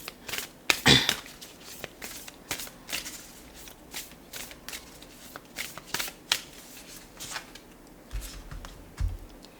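Moonology oracle cards are shuffled by hand in repeated soft riffling bursts, one sharper flurry early on, then a steady run of quieter papery shuffles, all close and without talk.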